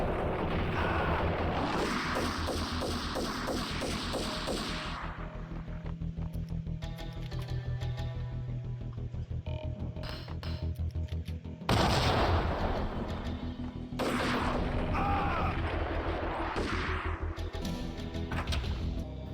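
Dense, heavy gunfire from the Max Payne game pounds away in long sustained bursts, loud and close, with sharp shots and booming impacts piling up and a brief pause before the firing resumes.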